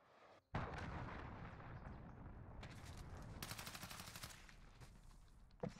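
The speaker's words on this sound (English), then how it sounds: "Missile launched." A video game missile strike sets off a long, loud rolling barrage of explosions and rapid gunfire, with dense booming that holds steady for several seconds after a brief lull at the start.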